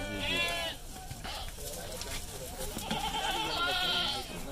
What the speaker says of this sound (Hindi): खसी बकरा है, कुर्बानी पे तैयार होने वाला बच्चा है।